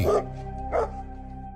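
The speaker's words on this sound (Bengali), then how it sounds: "হঠাৎ একটু কুকুর ডাকাডাকি করছে কেন?" Two sharp dog barks ring out close and loud in a cartoon sound effect, the first at the start and the second a moment later, each with a short tonal tail.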